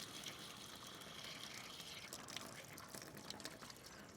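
Water and pressure hiss and gush steadily out of an opened pressure relief valve on an RV water heater, a continuous broad rushing spray that stays fairly even and moderately quiet throughout.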